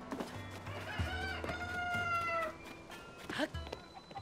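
A rooster crows in a Zelda video game with a long, drawn-out call rising and falling over a steady low game drone, followed by a few shorter squawks.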